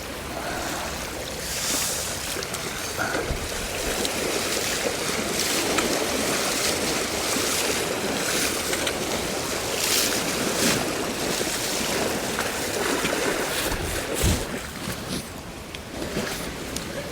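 A fast trout-river run rushes loudly and continuously around an angler wading across it in wet spring weather, a steady broadband roar of water with some wind buffeting.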